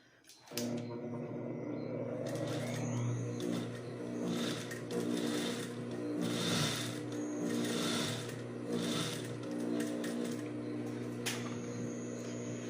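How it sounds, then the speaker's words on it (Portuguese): A sewing machine stitches a seam on a square-neck blouse, running in several steady close whirring bursts with brief pauses between them. "E aí aqui agora eu costuro com 1 centímetro de"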